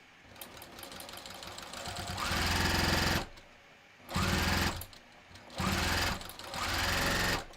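Sewing machine stitching a wallet, rapid chattering runs of stitches in four close, loud bursts broken by short pauses, with no talk.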